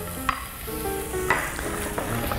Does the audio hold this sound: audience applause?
no